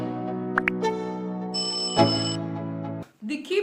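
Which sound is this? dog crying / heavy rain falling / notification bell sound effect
notification bell sound effect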